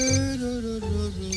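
A telephone rings with a steady electronic tone, a single sustained ring pattern heard close and clear for about a second and a half, with no talk over it.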